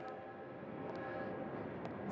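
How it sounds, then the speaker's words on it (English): A train pulls into a station at night, giving a steady, continuous rumble of rolling wheels and cars with faint clanks, moderately loud and with no voices. "As the train pulls in"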